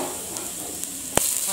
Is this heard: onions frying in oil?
yes